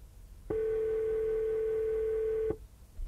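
A single steady telephone ringback tone sounds for about two seconds on an outgoing call, clear and continuous, with a faint murmur of background noise around it.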